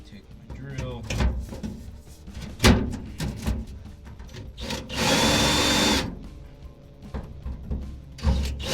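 A power drill whines in a short burst of about a second amid scattered tool clatter and knocks while building a welding trailer, with quieter handling noises around it.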